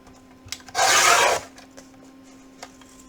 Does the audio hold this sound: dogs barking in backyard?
no